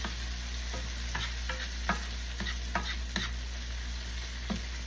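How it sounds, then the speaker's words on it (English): Garlic sautéing in a pan for rasta pasta, with a continuous sizzle over a low steady hum and spaced scrapes of a spoon stirring it, close and even with no talking. "Don't want to let the garlic cook too much. Don't want it to burn, you know, just to let it nicely caramelize in."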